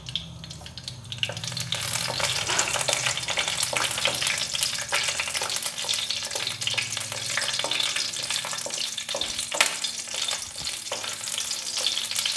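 Green chillies and a bay leaf frying in hot oil in a pan, a steady close crackling sizzle with bursts of spattering that runs throughout, no voices.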